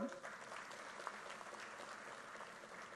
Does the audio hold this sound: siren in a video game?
no